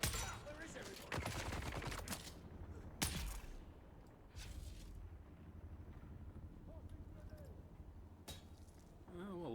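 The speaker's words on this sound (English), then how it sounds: "That sounds like people shooting." Gunfire in the video game Dune: Awakening cracks out as a few sharp shots and short bursts over a constant background din, while someone talks throughout.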